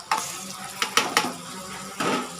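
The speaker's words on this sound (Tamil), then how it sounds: "இந்த தக்காளி எடுத்து அதில் போட்டுடலாம்." Tomatoes tip into a pan of frying chicken gravy masala, giving a few sharp splashy hits over a steady low sizzle, close and fairly soft.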